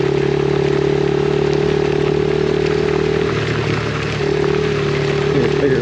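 A Yamaha TTR50 dirt bike engine drones steadily at close range while riding a bumpy logging road, a continuous small-engine buzz with a slight dip in loudness partway through.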